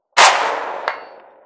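A Saiga 5.45x39 rifle fires at a target 160 yards away, giving one sharp report that rings out and decays, with a fainter metallic impact following just under a second later.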